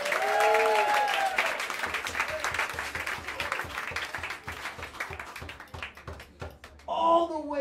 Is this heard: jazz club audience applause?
yes